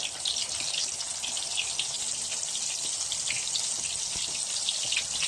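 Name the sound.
shrimp and bacon frying in preheated oil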